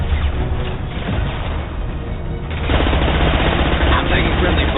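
Rapid video game gunfire, dense continuous automatic bursts that swell louder halfway through, loud and close, with a voice partly mixed in.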